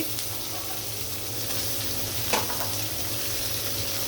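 Chopped onion fries in hot oil with a constant soft sizzle and one short clatter near the middle, fairly quiet, with no talking.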